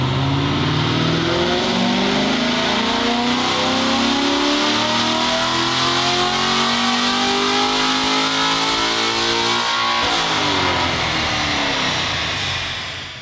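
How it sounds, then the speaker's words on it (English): A C7 Corvette with long tube headers and an upgraded camshaft revs hard on a dyno, its loud engine note climbing steadily in pitch for about ten seconds before dropping off and fading. "Next, onto the dyno to see what kind of gains we're looking at here."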